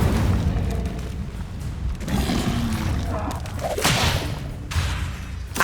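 Incendio fire spell cast in Hogwarts Legacy, a whooshing burst of flame among other spell effects, with several loud swishes and thuds over a constant busy game soundscape.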